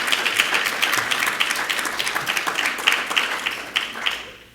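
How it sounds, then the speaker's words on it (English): At a research update meeting, an audience applauds with loud, close, rhythmic clapping. Individual claps stand out in a steady patter that tapers off near the end. "definitely deserves another round of applause for everyone"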